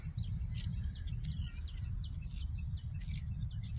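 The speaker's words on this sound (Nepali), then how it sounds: "चराचुरुङ्गीको आवाज एकदम आइरहेछ" Birds chirp with short, faint, repeated calls in a Malaysian village during the rainy season, over a low, steady outdoor drone that may include insects.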